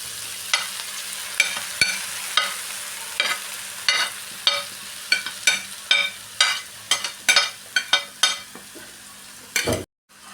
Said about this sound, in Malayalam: പൊടിച്ച് വെച്ച പൊറോട്ടയും കൂടെ ചേർത്ത് മിക്സ് ചെയ്യാം